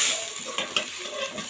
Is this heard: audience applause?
no